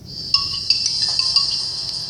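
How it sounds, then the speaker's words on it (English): Short phone notification chime, a few bright, clear tones ringing close and loud over a quiet background, with no talk. "Notification."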